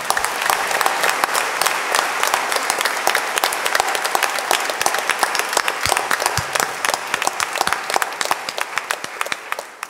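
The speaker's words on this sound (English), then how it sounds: "Give a mighty clap to Jesus." Members of a congregation at a Lenten church retreat clap together with sharp, distinct hand strikes in a lively, uneven rhythm that continues steadily without a break.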